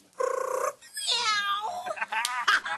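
A woman imitates a cat's purr with her voice, a short rolling vocal purr followed by breathy, voiced cat-like trills, close and fairly loud, with no other talk.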